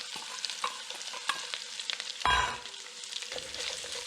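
Red onion sautés in a pan just used to sear beef, a quiet close sizzle broken by scraping stirs and a brief louder clatter near the middle.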